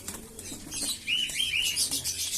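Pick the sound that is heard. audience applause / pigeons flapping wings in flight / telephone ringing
pigeons flapping wings in flight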